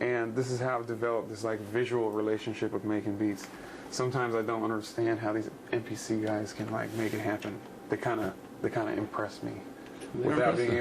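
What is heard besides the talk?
No everyday noises stand out.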